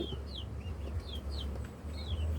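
Chickens and ducks cluck and chirp softly in quick, scattered calls over a low rumbling background, fairly faint.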